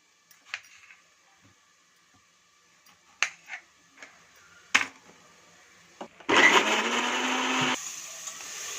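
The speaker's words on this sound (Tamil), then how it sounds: "தக்காளி தேவையான அளவு கட் பண்ணி மிக்சியில் போட்டுக்கலாம்" A kitchen mixer grinder blitzes cut tomatoes, first a few scattered clicks and taps as the jar is set up, then a loud steady whirring motor run for over a second before it cuts off.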